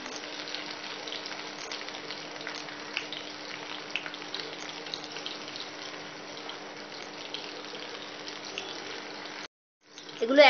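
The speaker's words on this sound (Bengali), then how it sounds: "এগুলো এক পিঠ ভাজা হয়ে গেছে, আমি উল্টে দিয়ে আর এক পিঠও ভেজে নেব" Muchmuche frying in a pan over a medium-low flame makes a soft, even hiss under a faint constant hum. The sizzle runs unbroken for most of the clip, then cuts off abruptly before a brief louder burst at the end.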